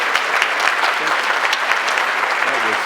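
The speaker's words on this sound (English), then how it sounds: "And so another round of applause." Audience applauding after a talk at the Earth-Keeper Wesak 2013 gathering, steady dense clapping held at even loudness with a few faint voices mixed in.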